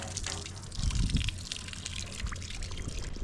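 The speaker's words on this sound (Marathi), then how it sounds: "मंदिरामध्ये एंट्री करण्याच्या अगोदर हे हापसा आहे एक पाण्याचा" Water gushes from a hand pump at the entrance of Papneshwar temple in Beed, a continuous close splashing and trickling flow with a brief surge near the start.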